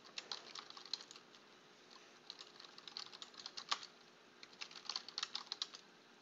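Typing on a computer keyboard, quick irregular bursts of light key clicks close by, with short pauses between runs and no voices.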